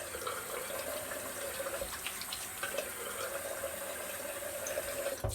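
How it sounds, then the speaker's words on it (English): Tap water runs steadily into a sink while a face is rinsed during a wet shave, a faint, continuous splashing stream with small irregular spatters and no voices. "A little water on the face."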